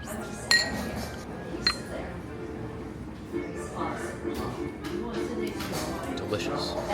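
Glasses of complimentary sparkling wine clink together in a restaurant toast, giving a sharp ring near the start and a few lighter clinks after it, set against a murmur of conversation and the clatter of dishes.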